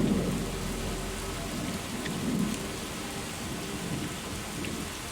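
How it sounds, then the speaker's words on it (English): Steady rain falling in the post-apocalyptic game Fallout 4, pouring on surfaces and leaking through a ceiling, with low rumbles of thunder rolling under the constant hiss. "I love that the rain comes through the ceiling"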